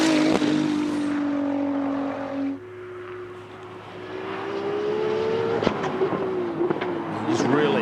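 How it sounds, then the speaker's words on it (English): Race car with a Nissan VR38 engine at a World Time Attack Challenge track, engine note droning and rising in pitch as it accelerates past, heard under ongoing commentary. "we're going to have a listen to the VR38. Out there right now"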